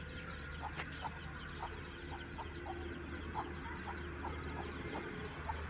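A mother hen with her young chicks clucks in a chicken coop, giving soft, fairly regular clucks along with faint chick peeps over a steady low hum, fairly quiet and close.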